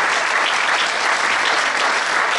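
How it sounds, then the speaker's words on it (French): Steady, dense applause from a crowd at an evening political rally in Beauvais, sustained evenly throughout with no pauses. "vous pouvez les applaudir bien fort"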